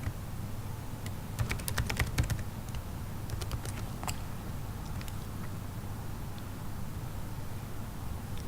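Password being typed on a computer keyboard: a quick burst of sharp key clicks, then several more scattered presses over a steady low background hum.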